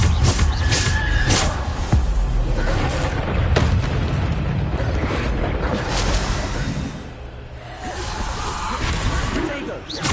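Bombarda blasting spell in the Hogwarts Legacy video game on PS5: a dense, loud run of booming explosions and crackling impacts, heavy and continuous with a brief dip before rising again.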